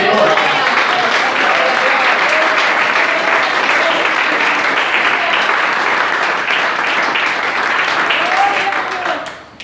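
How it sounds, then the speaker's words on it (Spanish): A church congregation gives loud, sustained applause, dense clapping filling the room at full volume for nearly ten seconds, with voices cheering faintly within it before it cuts off abruptly at the end. "Démosle un fuerte aplauso al Señor."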